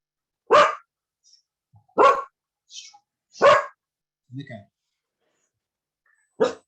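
A nervous dog barking during an online education talk, several loud separate barks spaced a second or so apart, with small whimpers and yips between them.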